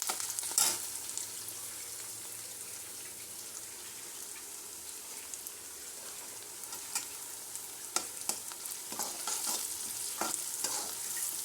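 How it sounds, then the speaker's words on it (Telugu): Onions and curry leaves frying in a pan until golden, a steady broadband sizzle with scattered stirring scrapes and clinks, close and continuous, no voices. "గోల్డ్ కలర్ వచ్చే వరకు ఫ్రై చేసుకోవాలండి ఆనియన్స్"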